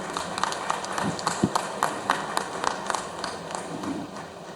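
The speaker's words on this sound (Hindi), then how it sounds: "आपकी जोरदार तालियां रहें" Scattered applause from an audience at a mega vaccination campaign event, with rhythmic bursts of clapping and some background voices, moderately loud in a reverberant hall.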